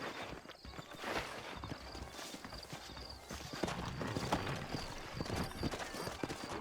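Horses walk steadily in the Red Dead Redemption video game, their hooves clip-clopping in a continuous rhythmic patter over quiet ambient background, with a faint whinny tone blended in.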